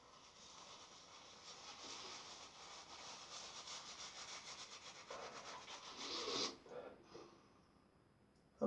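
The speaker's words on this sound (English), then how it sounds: "Now, let's get some of this soap on my face today." Shaving soap lathered onto a face with a brush before a straight razor shave: close, continuous soft rubbing and swishing that builds for several seconds, then stops with a few brief scrubs.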